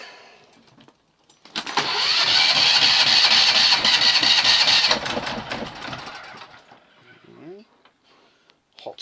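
An inboard marine engine on a boat is hot-started, cranking briefly before catching into a loud, even run for a few seconds, then easing down to a quieter idle.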